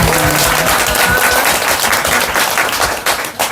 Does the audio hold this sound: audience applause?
yes